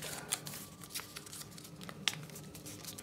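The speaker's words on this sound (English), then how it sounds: "then once again fold those flaps" Paper flaps folded by hand for an origami star box make soft, faint crinkling and rustling with a few light creasing snaps.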